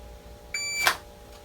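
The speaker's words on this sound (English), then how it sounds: "I'm just waiting to hear that beep" A single sharp electronic shot timer beep sounds briefly, followed right away by a short, loud crack, against a quiet background during dry-fire draw practice.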